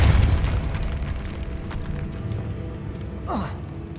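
A Depulso spell is cast in Hogwarts Legacy, a single loud boom bursting at the start and decaying into a rumbling hum, followed by a rising whoosh near the end.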